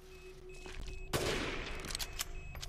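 A single loud gunshot from a weapon in the video game Resident Evil Village, set in Heisenberg's Factory, cracks out sharply and then rings into a decaying echo, with faint smaller shots and clatter following.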